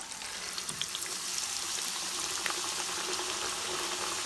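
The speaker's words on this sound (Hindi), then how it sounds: "अब इसे उतार के तो हम फिर ये गरम गरम ऑयल में डालेंगे" Goat-meat chapli kebab sizzles in hot oil, a soft, continuous crackling hiss that stays even throughout at low volume with no voices.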